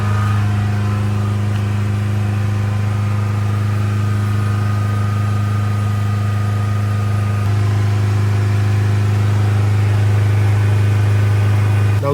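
A Land Rover Evoque 2-litre diesel engine held at a steady 3000 RPM during particulate filter cleaning, droning loudly and evenly throughout with a strong low hum and no talk.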